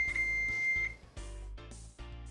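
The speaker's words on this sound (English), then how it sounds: "Each high-pitched beep indicates a successful measurement being recorded." A DGH 6000 water immersion ophthalmic measurement device gives a single steady high-pitched beep lasting about a second, followed by low electronic hum and tones.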